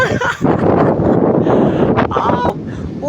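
Strong wind gusts buffet the microphone outdoors at Oslob, a steady roaring rush lasting throughout with brief dips, loud and close.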